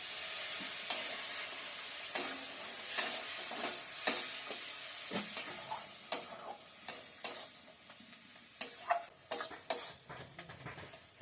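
Garlic and chili stir-fry in a pan with turmeric, with a soft continuous sizzle broken by repeated sharp scrapes and clicks of a spatula stirring against the pan, close and fairly quiet.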